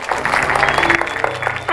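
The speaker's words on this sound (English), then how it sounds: "Use all that energy from lunch to give a big round of applause to Kateryna." Audience applause at a tech conference talk, a dense patter of clapping that holds steady, loud and close, with some voices mixed in.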